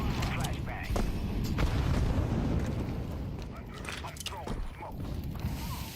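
A grenade goes off in Counter-Strike with a deep rumbling boom that fades over several seconds, followed by softer low thuds, over a dense game-audio bed.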